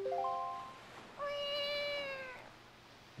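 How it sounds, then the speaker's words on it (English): Link, the character in the video game The Legend of Zelda: The Wind Waker, makes two cartoonish cat meows, a short one followed by a longer drawn-out one, clear and close with no other sound around them. "And so Link pretends to be a cat."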